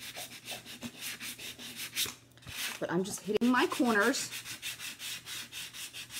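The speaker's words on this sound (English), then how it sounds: "I'm going to do a little bit of sanding on here." Steady, rhythmic rasping strokes of sandpaper rubbing over a wooden box frame, close by, with a person talking briefly partway through.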